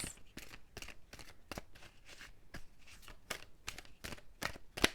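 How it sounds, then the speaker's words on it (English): Repeated quick riffling bursts of cards being shuffled, close and soft, coming in an irregular rhythm with brief pauses. "2 more shuffles."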